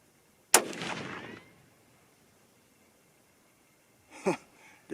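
A .243 Winchester rifle fired with a Ramshot Grand powder load gives one sharp, loud crack with a rolling tail that fades over about a second. After a quiet pause, shorter bursts of noise follow near the end.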